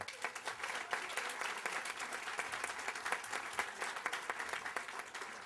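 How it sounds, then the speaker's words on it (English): Audience applause for the Literacy Coalition of Onondaga County at a grand opening, a steady, fairly soft wash of many hands clapping heard from a distance, with no talk. "A huge round of applause for the coalition."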